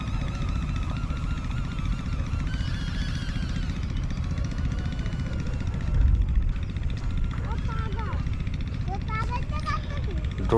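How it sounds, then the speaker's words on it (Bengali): A DJI drone climbs overhead with a steady, whining propeller buzz that holds throughout, while people talk over it. "ড্রোনটা কিন্তু আস্তে আস্তে অনেকটা উপরে চলে যায়"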